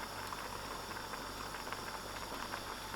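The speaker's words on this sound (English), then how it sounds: "Now I'll allow these ingredients to boil out." Continuous bubbling and hissing of a pot of black urad dhal at a rolling boil, steady and fairly quiet, with no voices.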